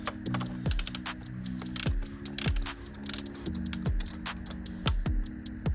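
A bolt being tightened on an Audi S5 engine with a ratchet, giving a run of sharp, evenly spaced clicks with short pauses between strokes, close and fairly loud.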